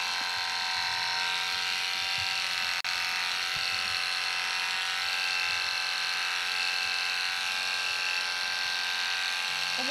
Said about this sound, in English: we're just going to give her a clip with half the head